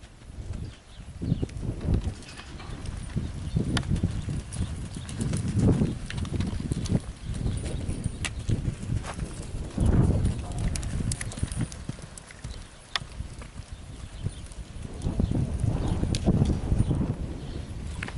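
Horse hooves clip-clopping as a cowboy rides on a ranch, opening and closing a gate from the saddle; irregular near thuds and clops in bursts, with wind and rustling around them.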